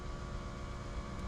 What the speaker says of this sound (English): Fuel pump's on. You guys might be able to hear that.